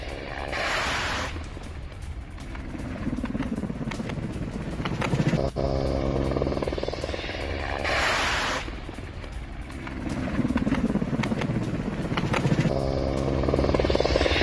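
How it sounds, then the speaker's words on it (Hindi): Helicopter in a Ukrainian attack on Russian positions, a steady rotor and engine drone that swells in loud bursts and holds throughout with a buzzing edge, some rumbling mixed beneath. "ये रशियन पोजीशंस पर यूक्रेन का हेलीकॉप्टर से अटैक"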